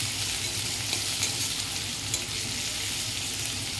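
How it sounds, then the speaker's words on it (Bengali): Chopped onion fries in oil in a pan for tilapia fish jhal, giving a steady, dense sizzle that stays close and even throughout with only faint stirring clicks. "পেঁয়াজটা একটু ভাজা হোক।"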